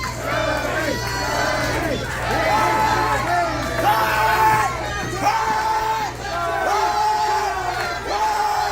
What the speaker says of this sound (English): you hear this crowd in Phoenix, Arizona, solidly behind Chubby Depp tonight.